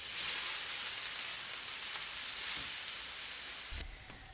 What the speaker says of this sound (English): I will saute the carrots in olive oil about 4-5 tablespoons with some salt, closing the lid to create steam to help soften.